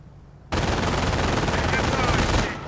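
Enemy machine-gun fire in the World War II strategy game Company of Heroes breaks out suddenly after a brief quiet moment, a dense, loud, continuous rattle of automatic shots that holds steady for about two seconds before tapering slightly.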